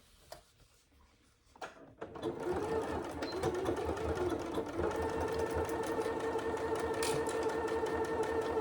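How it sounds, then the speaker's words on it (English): A sewing machine runs steadily, stitching the pocket pieces of a Serena saddle bag together with the lining held aside. A few faint handling clicks come first, then the motor hums in an even, continuous run close by. "you're only sewing the pocket pieces together"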